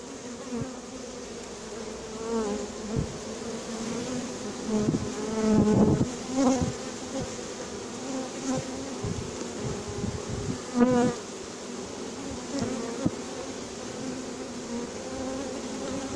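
A small honeybee swarm hums steadily while being hived into a box with an old drawn comb, a dense continuous buzz with individual bees droning nearer and louder at moments, no voices.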